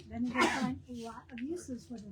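A single sneeze bursts out near the start, followed by a person talking.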